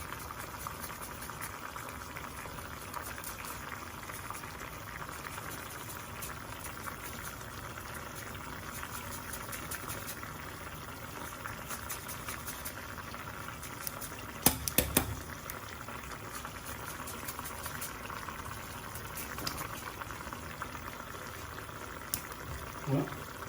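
Cream with lemon zest simmering and reducing in a pan on a stovetop, giving a steady, close bubbling and soft sizzle that runs evenly throughout with a few sharper pops near the middle.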